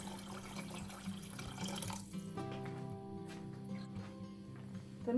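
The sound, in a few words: pouring about a litre of water into soup pot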